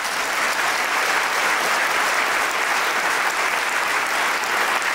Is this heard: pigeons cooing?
no